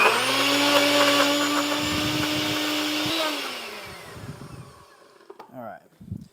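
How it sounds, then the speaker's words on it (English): A kitchen blender purees basil with a loud, steady motor whine that holds for about three seconds, then winds down, followed by light clattering and a few soft handling sounds. "I'll do the blending here"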